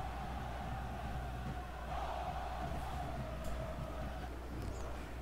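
Stadium crowd of CRB supporters at Ilha do Retiro in a FIFA video game, a steady distant roar of chanting fans, low and continuous, with no single voice standing out.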